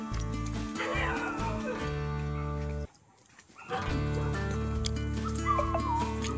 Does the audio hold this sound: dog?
yes